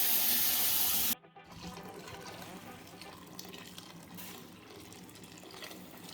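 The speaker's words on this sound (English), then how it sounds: "it's been rinsed and new water has been added" A cooking pot is rinsed under running water in a home kitchen. A loud gush of water stops abruptly after a second, and quieter sloshing and faint splashing continue after it.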